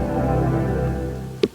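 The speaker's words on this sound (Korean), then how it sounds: "한스 짐머에 의해서 좀 만들어진 이러한 가상 사운드들이" Virtual startup tone of a BMW iX, composed by Hans Zimmer, plays as a steady harmonic hum for over a second inside the car, ending with a short bright click near the finish; no speech.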